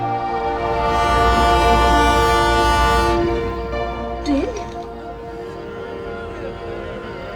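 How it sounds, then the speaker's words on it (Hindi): A train sounds a long, loud, sustained horn as it approaches on rails, the blast fading after a few seconds into lingering rumble and a brief squeal, staged as a ghostly horror-show effect. "ये ट्रेन पास आ रही है"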